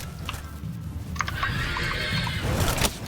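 A horse mount in the video game Palworld gives a drawn-out, wavering whinny over a low game backdrop, with a few clicking taps scattered around it.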